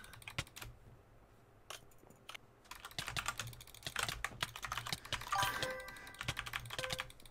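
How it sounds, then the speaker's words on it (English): Rapid keyboard and mouse clicking during a Minecraft PvP duel, close and fast, rising into dense bursts, with faint tonal game sounds near the end and no talking. "Clicking intensifies."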